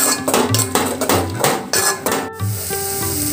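Tomato masala with garam masala is sautéed in a pan, giving a close, steady sizzle broken by repeated scraping stirs and clinks of a utensil against the pan.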